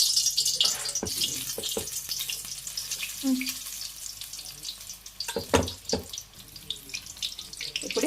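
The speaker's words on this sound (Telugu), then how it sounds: "డీప్ ఫ్రైకి నూనె వేడి చేసుకున్నాం." Battered chilies deep frying in hot oil for mirchi bajji, a steady hiss of sizzling with occasional crackles and sharper pops, fairly close and alone without talk.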